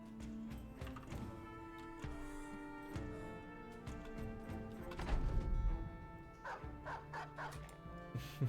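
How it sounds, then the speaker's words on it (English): A dog barking in the video game Battle Brothers, repeated yips and barks over a steady musical score, with a louder, denser flurry of barking partway through. "Dog's still after him."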